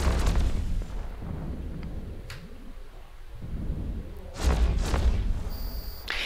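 Spaceship weapons firing on an enemy vessel during a mission in EVE Online, heard as a few heavy booming bursts, one near the start and a louder one later, over a steady low rumble with no talk.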